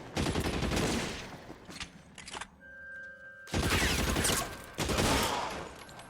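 Gunfire in the video game LA Noire: dense bursts of rapid shots at the start, a short lull with a steady tone, then another loud volley of fire.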